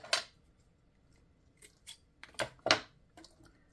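Scissors snip through paper pieces for mixed media bookmarks, a few sharp close cuts in an uneven rhythm, the last ones coming in a quick cluster, with no talking.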